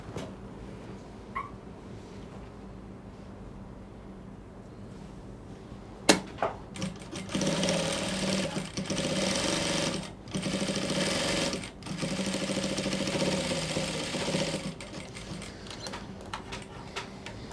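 A sewing machine stitches a half-inch seam along the crotch of a pair of bum shorts, running in several bursts of steady, close whirring separated by short pauses, with occasional clicks and no talking.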